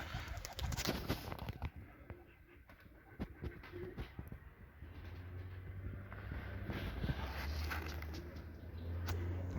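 Coloured fighting pigeons from the Semirechye region coo in a loft, with intermittent throaty calls over a steady low rumble and no one speaking.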